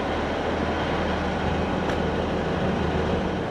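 Scotrail train pulling into Inverness station, a steady low rumble and broadband rail roar that holds evenly throughout with no talk over it.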